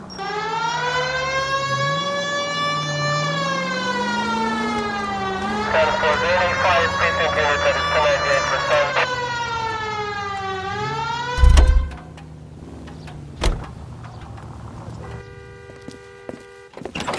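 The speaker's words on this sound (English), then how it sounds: "Hit the siren." Police car siren in the video game L.A. Noire, a loud rising and falling wail that repeats for about eleven seconds, then gives way to a couple of sharp thumps and quieter engine noise.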